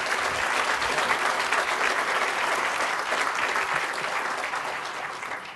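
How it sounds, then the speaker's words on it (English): An audience at a campus ground blessing in Hawaii applauds, a dense round of clapping from a sizeable crowd that stays full and close before tapering slightly toward the end. "How about a nice round of applause for Jean?"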